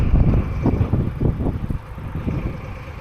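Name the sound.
diesel locomotive engine running at a railway yard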